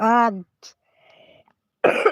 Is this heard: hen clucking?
no